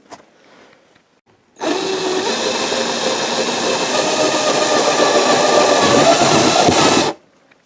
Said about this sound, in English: we want to start by drilling a hole right down the middle here